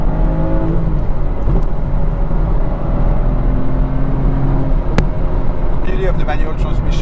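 A 2021 BMW M4 with a manual gearbox drives along, its engine droning steadily under road rumble, with a brief sharp blip near the end as the driver prepares a downshift; voices are faintly present.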